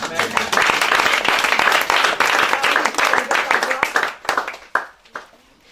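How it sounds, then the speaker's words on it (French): A church congregation at an orphanage breaks into dense, lively clapping and applause, loud and sustained before thinning out into scattered claps, with voices mixed in. "On acclame."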